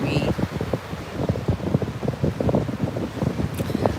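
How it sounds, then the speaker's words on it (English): Gusts of wind at a beach buffet the microphone in uneven low rumbling bursts, with a faint background chirp early on. "Let me know if the wind is too windy sounding."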